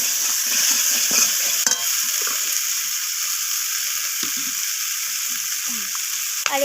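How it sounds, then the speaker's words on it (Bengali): Chopped onion greens sauté in a pan for a rohu fish curry, a steady close sizzle with intermittent low scrapes and knocks of a spatula stirring. "তো সব কিছু এইভাবে কষাতে থাকবো।"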